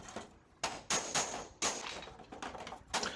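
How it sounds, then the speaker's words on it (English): Hammer and dolly strike repeatedly at a 1962 Chevrolet Impala driver's door during rust repair, sharp metallic bangs in an irregular series, close and loud. "now we're just going to hammer and dolly this thing back into shape"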